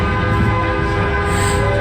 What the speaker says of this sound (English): Is that a train horn? I think one of them has a train horn.